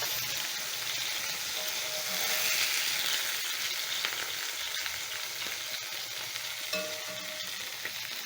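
Pork chops frying in a skillet with garlic, a steady, close crackling sizzle that continues evenly throughout with no voices.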